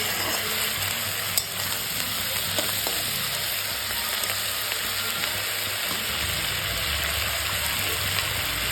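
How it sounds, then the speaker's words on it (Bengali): Onion stalk fritters (peyaj koli) frying in hot oil, a steady close sizzle with faint stirring clicks throughout. "পেঁয়াজ কলিটা ভেজে নিচ্ছি।"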